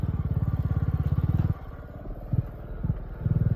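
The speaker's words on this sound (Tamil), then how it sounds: "மலை மேலே வண்டி ஓட்டிட்டு இருக்கிறோம்" A motorcycle labors up a hill road, its engine chugging close and loud with a rapid pulsing beat, easing off midway with a few revs and bumps before the throbbing picks up again.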